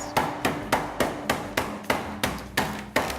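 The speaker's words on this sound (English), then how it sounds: "I'm gonna take a flat meat pounder, no spikes because we don't wanna pierce the meat. We'll just give this a few whacks" A flat, spikeless meat pounder whacks veal under parchment paper about a dozen times in a steady, even rhythm, each blow a loud, close, dull thud with no talking.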